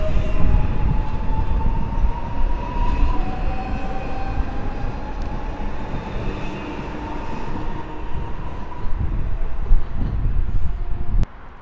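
An Elf electric multiple unit train rolls past Warszawa Służewiec station, a steady loud rumble of wheels on rails with rising and falling motor whine, continuous and close throughout.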